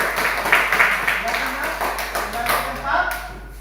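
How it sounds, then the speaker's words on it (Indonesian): Classroom clapping by students after a group's correct answer in a school lesson, a brief burst of hand claps with audible individual taps amid background voices. "Berikan tepuk tangan."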